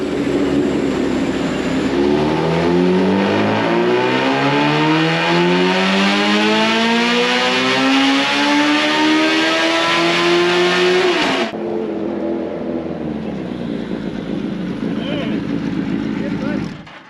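A restored Suzuki Hayabusa with ECU revisions and added nitrous revs hard through a long pull, its loud engine note rising steadily before cutting off abruptly to a lower drone.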